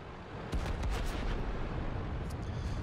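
A tank shell hit in World of Tanks lands as a sudden heavy boom with a rumbling low-end impact, followed by a few sharp cracks and lingering battle noise.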